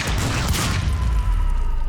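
Grenade explosions going off in the video game Quantum Break, with heavy low rumbling blasts and crackling debris that fill the whole stretch at steady loudness alongside other combat noise.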